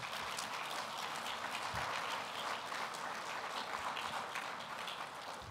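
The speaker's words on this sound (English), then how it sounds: "Let's give his team a round of applause." An audience at a civil rights summit plenary session gives a full round of applause, a steady, crackling roar of many clapping hands that holds at an even level from start to finish.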